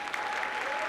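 An audience applauds at the Manhattan State of the Borough address, giving a short, steady burst of distant, soft clapping.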